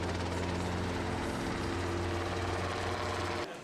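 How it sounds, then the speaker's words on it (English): A Britten-Norman BN-2 Islander, a British twin-engined light utility aircraft, drones steadily at the 1966 Farnborough Airshow, with a continuous propeller and engine hum that fades slightly at the end. "The Britten-Norman BN-2 Islander is a British light utility aircraft and regional airliner"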